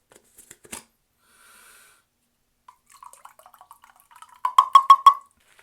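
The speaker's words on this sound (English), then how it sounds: "I'm going to go ahead and soak my Parker Safety shave brush for about 30 seconds in hot water." A Parker safety shave brush soaking in a bowl of hot water: sparse quiet drips and small wet taps, then a short cluster of louder sloshing splashes near the end.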